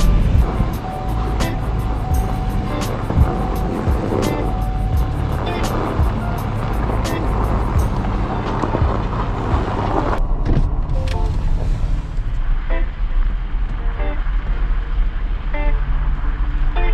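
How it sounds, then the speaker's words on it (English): A car heads out onto frozen Gull Lake early in the ice season, its steady engine and tire rumble loud and continuous throughout, with the road noise shifting and thinning partway through as it moves onto the ice. "first time driving on the ice this year"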